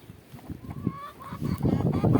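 A rooster crows nearby, a drawn-out call with other fowl sounds around it.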